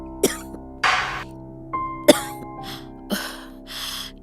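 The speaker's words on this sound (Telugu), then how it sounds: "నీకు సడన్ గా ఎందుకు ఇంత దగ్గు వస్తుంది" A person coughs in a series of sharp, separate bursts, roughly six over a few seconds, close and fairly loud with quiet gaps between.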